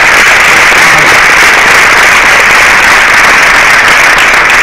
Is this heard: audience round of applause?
yes